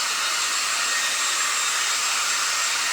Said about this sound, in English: Get rid of the dryer.